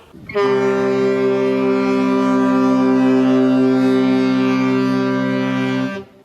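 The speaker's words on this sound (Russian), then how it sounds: "А капитан безудержно гудит несколько минут гудок, без перерыва." A deep, loud ship's horn blares continuously for about six seconds in the Arctic Ocean near the North Pole, one unbroken tone with rich harmonics, then cuts off.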